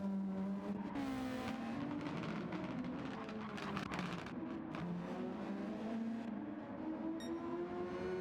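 Race car engines in a GTO Brazil Grand Prix racing game, a steady droning whine with gliding pitch as a car runs on light throttle to save fuel, continuous and mid-distance.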